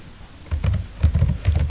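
Keys clatter on a computer keyboard as a document name is typed in a word processor, with irregular bursts of close, crisp clicks that start after a short quiet and continue steadily to the end.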